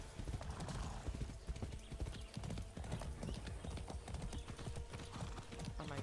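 Rapid, rhythmic clip-clop of a horse's galloping hooves in the video game Far Cry 6, steady and close, with a faint whinny in the mix.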